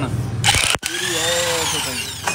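An angle grinder works over a jeep chassis during modification, grinding off old weld spatter to expose bare metal; a steady, close motor whine rises and falls in pitch, with a brief break and talking alongside.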